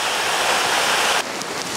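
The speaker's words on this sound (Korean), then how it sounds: "고성폭포입니다." Steady, loud broadband rush of the Gusong waterfall near Cheongpyeongsa temple, close by, with a brief drop in level partway through; no voices.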